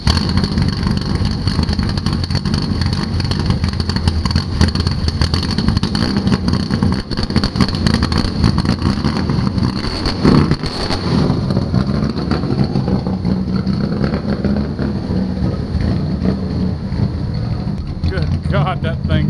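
A Chevrolet Biscayne hot rod's engine runs loud and rough close by, a steady heavy rumble filling the whole stretch with little change in level.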